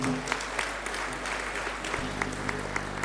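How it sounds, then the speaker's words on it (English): An audience at an economic summit conference in Pondicherry claps steadily, a dense patter of applause at moderate volume with no pauses, heard from a distance in a large room. "Huge applause for him."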